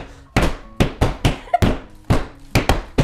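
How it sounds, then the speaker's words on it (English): Heavy hammer blows striking and breaking down a wall during a house remodel, about eight loud, sharp impacts at an uneven pace, each with a brief crumbling decay. "Can you help me break down the wall too?"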